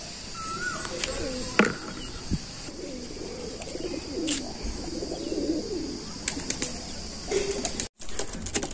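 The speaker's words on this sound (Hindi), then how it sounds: "अब कबूतर आने लगे" Pigeons arrive at a water bucket and coo in soft, low, rolling calls, broken by sharp wing flaps and clicks close by.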